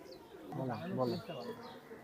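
A male Blue-tailed pigeon coos from below inside an old cage, a soft rolling call repeated through the middle of the stretch, with a voice talking over it.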